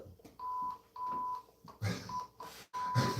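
A censor beep button pressed several times, producing short steady electronic tones, some longer and some clipped, amid low background chatter and noise.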